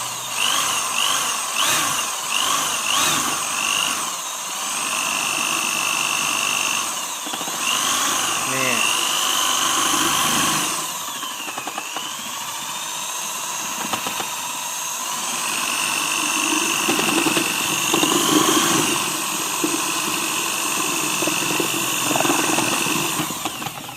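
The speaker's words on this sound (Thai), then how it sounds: "ยุคใหม่นะครับ เรามีสว่าน นี่" A steady, high-pitched electric drill whirs continuously, its pitch shifting slightly as it churns through homemade dishwashing and laundry liquid, with brief voices now and then.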